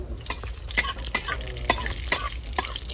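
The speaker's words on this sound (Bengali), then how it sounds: "রসুনটা একটু লাল করে ভেজে নেবো" Garlic cloves fry in mustard oil while being stirred, a bed of sizzle punctuated by about six sharp, regularly spaced scrapes and clinks of a utensil against the pan, close and fairly loud.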